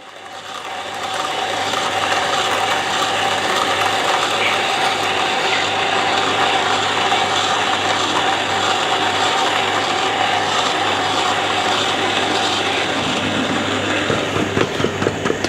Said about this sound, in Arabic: وتشغل اول شيء المطحنة قبل ما تحط القهوة فيها